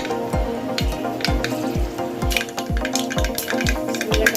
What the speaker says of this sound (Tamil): நல்லா கடுகு பொரிஞ்சிச்சு.